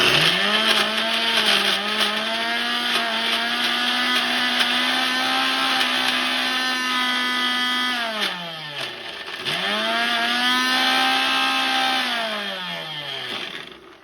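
An electric mixer grinds karonda and coconut pieces into chutney. The motor gives a loud, steady whine, drops off and starts up again, then runs on without talk.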